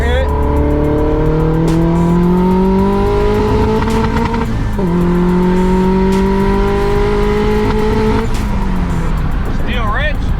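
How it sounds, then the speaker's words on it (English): A Honda Prelude with a built H22 engine revs hard in third gear, rising steadily in pitch with a brief dip mid-pull before climbing again, loud and close, with a voice speaking briefly over it. "Now we're getting ready to make another third gear hit."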